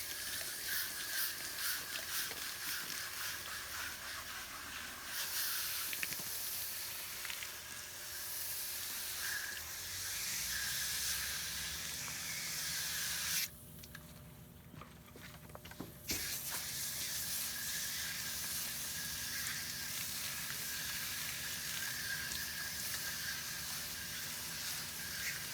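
Cleaner sprayed through an HVAC coil gives a steady hiss that drops out briefly and resumes, backed by a low running hum; no one speaks.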